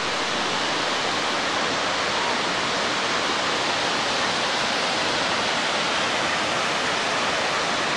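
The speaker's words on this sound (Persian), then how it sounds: "آب هم که از چهار اطراف آن جاری هست" Water flows and pours steadily around the lake at Band-e Amir in Bamyan Province, Afghanistan, a dense, unbroken rushing roar like a close waterfall, loud and constant throughout with no voices.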